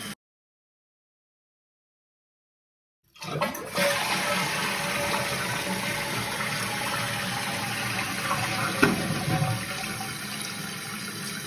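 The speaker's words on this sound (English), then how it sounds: "Okay, so it's filling a lot faster, and I guess the key is, does it shut off? And flush." Toilet with a newly installed fill valve replacing an old ball cock flushes after a short silence, then a loud, steady gush of water rushes and refills the tank close by, with no talking.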